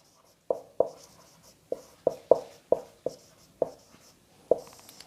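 Chalk strikes a classroom board during a lesson in about ten sharp, quick taps and strokes spaced irregularly, close and fairly crisp, with no voice over them.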